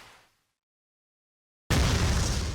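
Leona's Earring Bomb detonating in King of Fighters XV, a sudden loud blast that bursts in after near silence and sustains a dense roar to the end.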